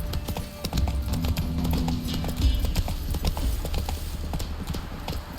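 Roach the horse gallops in The Witcher 3, a fast, steady clip-clop of hooves that stays loud and close for the whole stretch with no talking over it.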